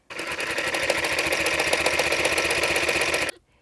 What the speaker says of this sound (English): Once it's all set up, we can just sew, and both of the top and the bottom feet are going to work together.